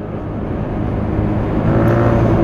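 A 2016 Genuine Buddy 125 scooter rides along a street, its steady low engine drone mixed with wind rumble and growing slightly louder.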